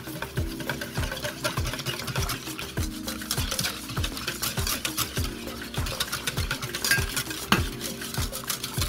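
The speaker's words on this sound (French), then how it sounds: "Et ici, je te laisse mélanger. J'incorpore le sirop sur le lait concentré." Hot sugar syrup being stirred into condensed milk in a pan for a spring blueberry entremet, a steady, close, continuous scraping and swishing with rhythmic strokes and no talking.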